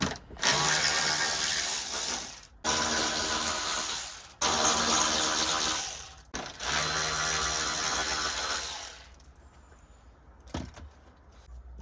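Hand tools work on the front end of a Ford Escort during parts stripping: bursts of rapid ratchet clicking and metallic rattling separated by short pauses, close and fairly loud, then quieter handling and a single sharp knock near the end.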